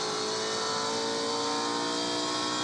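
A V8 Supercar race car engine screams at full throttle during the Tasmania SuperSprint, a loud, steady, sustained howl with no pause and no voices over it.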